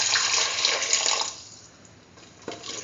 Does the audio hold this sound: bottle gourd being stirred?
no